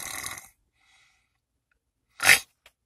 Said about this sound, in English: Who in the world was snoring like that?